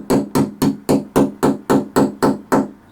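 Ten sharp, evenly spaced hammer taps on a 1/8 inch punch driving out a bolt stop pin during a Majestic Arms Speed Strip Master Kit MK III installation, close and crisp, with no voices.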